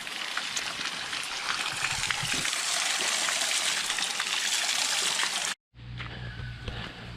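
Mountain spring water off Route 124 in Las Marias, Puerto Rico, pouring in a steady, bright rushing splash close by, cut off briefly near the end before a quieter, lower trickle with a faint hum resumes.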